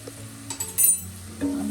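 Shallots and ingredients sauté in a pan for a chempalli (big eye snapper) fish curry, giving a faint sizzle with a few light clinks and stirring scrapes over about two seconds.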